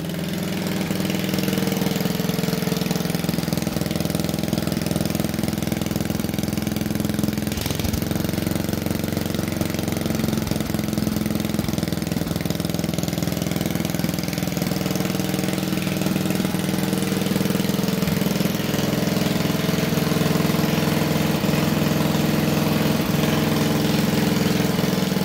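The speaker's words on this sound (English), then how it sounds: "go slam this back on the engine and fire it up and see what happens" An old, rusted wood splitter's small engine runs steadily after restoration, a loud continuous chugging drone with a rough, knocking edge that holds at a constant idle throughout.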